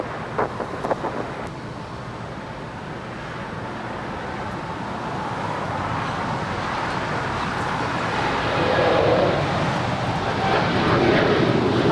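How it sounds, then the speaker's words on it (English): An Air Canada Boeing Dreamliner bound for Toronto rolls down the runway for takeoff at LAX, a steady broad jet roar building gradually in strength over wind noise, with faint road traffic in the distance. "Now, rolling down is the Air Canada Dreamliner heading to Toronto."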